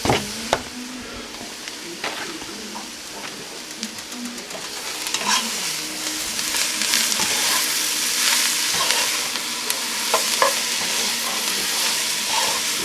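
An 8-ounce pack of roughly chopped baby spinach sautés in a pan, giving a continuous close sizzle broken by scattered spoon clicks and stirring scrapes that grow busier toward the end.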